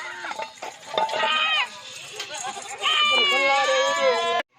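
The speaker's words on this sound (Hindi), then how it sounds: "मेरा भाई आपको एक एक करके बकरियां दिखा रहा हूँ" Goats bleat loudly and close, several long wavering calls overlapping in bursts, with people talking in the background between them.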